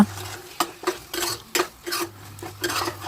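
Chicken being stirred in a pressure cooker, a spoon scraping and clinking against the metal pot in a series of sharp, irregular strokes, close and fairly loud, with no talk.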